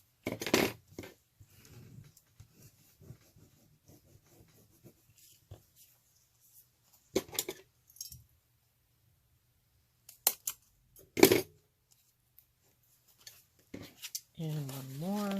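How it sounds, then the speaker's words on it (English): Scissors recut paper for junk-journal tags made from printables: a few sparse, close snips and rustles spaced across quiet stretches, with a brief voice near the end. "I hope this isn't too boring watching me recut the paper."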